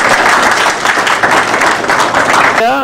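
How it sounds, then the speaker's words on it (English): A dense, steady round of audience applause for children at a kids' show, loud and close throughout, with a brief voice rising at the very end. "Everybody get them a round of applause for knowing all of this."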